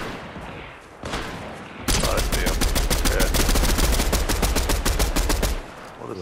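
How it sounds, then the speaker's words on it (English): Rapid automatic gunfire in a video game, a dense burst of sharp cracks lasting several seconds and fired in quick regular succession, loud and close, preceded by a couple of single shots and scattered action noise. "What a silly gun for you to shoot."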